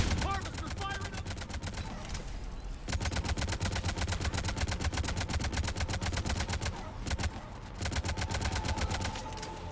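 Harvester firing in the Mass Effect 3 video game: a loud, steady, rapid-fire rattle of heavy shots in a fast, even rhythm, continuing almost unbroken with brief pauses.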